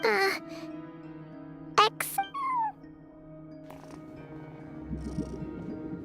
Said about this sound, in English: No one except for a cat watching over the front desk.